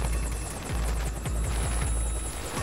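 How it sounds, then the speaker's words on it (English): A rescue helicopter comes in to land on a packed-snow landing zone in the backcountry. Its rotor chops steadily and loudly over a deep engine roar and high turbine whine, and no voices are heard. "Can I get a helicopter to come into the LZ?"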